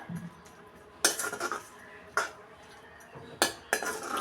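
Onion and washed dried fish (shutki) are stirred in a pan without oil, with a spatula scraping and knocking against the metal in several distinct clattering bursts over a quiet background.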